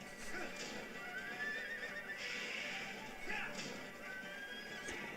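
Horse neighing and hoofbeats in the Mario & Sonic at the London 2012 Olympic Games Wii horse-riding event, with a steady whinny over clopping and game music, and a voice talking faintly underneath.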